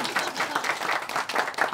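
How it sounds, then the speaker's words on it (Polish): Audience applause at a Polish stand-up comedy show, a short burst of crowd clapping in quick rhythmic pulses, close and moderately loud. "Można oklaski zrobić dla kolegi"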